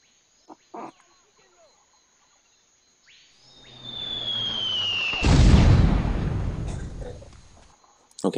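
Artillery fire-for-effect barrage in Delta Force Land Warrior: a descending incoming whistle gives way to a loud, rumbling impact with a long roar that slowly fades, after a few faint sounds at the start.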